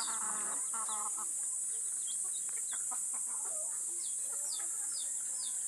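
Several chickens cluck and chirp intermittently while feeding on leftover rice, against a steady high-pitched hiss, with faint pigeon and bird calls scattered throughout.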